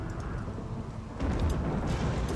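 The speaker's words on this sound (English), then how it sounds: "Lightning strikes down here, that's okay." Thunder from a lightning strike during a rainy thunderstorm in the video game Rimworld, a low rumbling crash that builds midway and rolls on under steady rain hiss.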